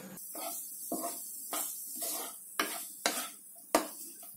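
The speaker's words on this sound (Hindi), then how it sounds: "जो मैंने अभी क्रम्बल किया है इसको भी डाल देंगे मावा को और इसको भूनेंगे" Crumbled mawa (khoya) roasts in a pan on low heat for bal mithai. A spatula scrapes and stirs in a steady rhythm of close strokes over a soft sizzle.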